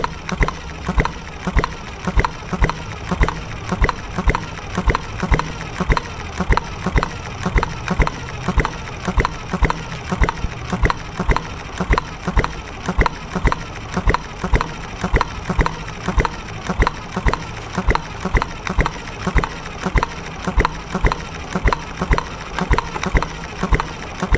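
A small engine idles on its carburetor setting before warming up, a steady rapid pulsing putter close by that runs throughout without a break.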